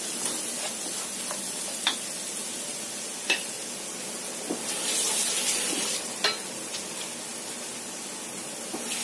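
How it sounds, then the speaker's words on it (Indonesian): Ground spice paste sautéing in a pan for Javanese fried noodles, a steady hiss of frying oil with occasional clicks and scrapes of stirring, close and continuous with no talk. "Kemudian saya tumis bumbu yang sudah saya haluskan tadi"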